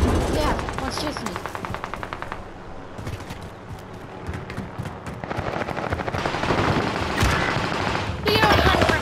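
Rapid automatic gunfire from a video game, bursts of machine-gun fire rattling in quick rhythm with brief pauses, loud and up front, while people talk over it.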